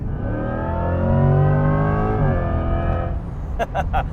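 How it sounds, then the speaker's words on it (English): A Corvette E-Ray hybrid's electric motor whine climbs steadily in pitch as it accelerates hard at full throttle, loud and close, with engine and road roar underneath and a few clicks near the end. "when you floor it, you get so much of that electric motor noise"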